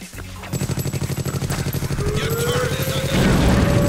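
A dynamite blast in the video game Awesomenauts brings a rapid, rattling stream of staccato bursts, then a heavier sustained rumble toward the end, loud and busy with game effects.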